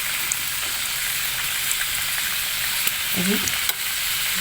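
Flour-based dessert dough frying in hot oil, giving a loud, continuous, close sizzle with small crackling pops, while a voice speaks briefly over it.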